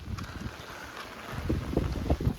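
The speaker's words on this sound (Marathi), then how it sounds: "वारा बघा जाम आहे." Strong wind buffeting the microphone during heavy village rain in the Kokan countryside, low rumbling gusts that rise and fall in uneven bursts, growing stronger toward the end, with no talk.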